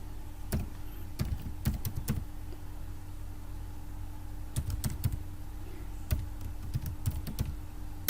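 Someone types on a computer keyboard in short clusters of crisp keystrokes separated by pauses, close and fairly quiet over a steady low hum, with no speech.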